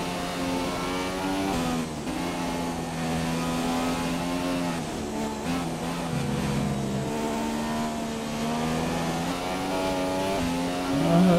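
Race car engine in the F1 2017 video game at the US Grand Prix, revving hard under too much throttle, a steady loud harmonic whine rising and falling over the whole stretch with no talk.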